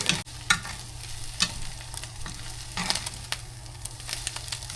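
Food burns and fries in an overheated pan, a steady low sizzle broken by several sharp scraping clacks of a spatula stirring, fairly close and without talking.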